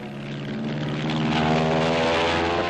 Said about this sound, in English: The F-7F, known as the Tiger Cat, a new twin-engine fighter bomber.